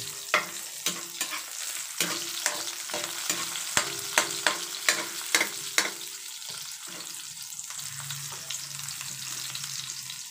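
Mussels sauté with ginger in a pan, a steady close sizzle and fry broken by repeated sharp scrapes and clacks of stirring for the first six seconds, then a softer continuous frying hiss.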